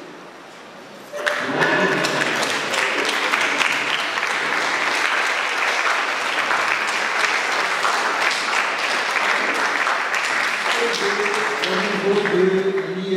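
An audience gives a sustained ovation to new CAFOP students at an academic year opening ceremony. After a brief lead-in, dense clapping fills the hall and holds steady for about twelve seconds, with some faint voices near the end.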